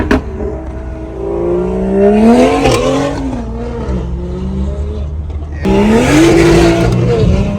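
A tuned car revs hard and accelerates loudly with rising engine pitch, tire squeal and a second surge after a brief shift, no talk.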